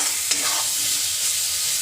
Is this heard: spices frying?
yes